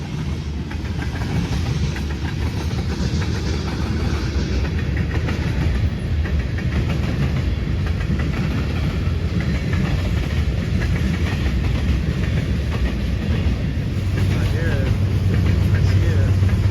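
A train passes close by at a railroad crossing in Muncie, a continuous rumble with clickety-clack of wheels on rail joints, loud and near throughout.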